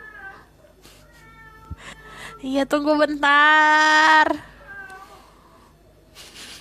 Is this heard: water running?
no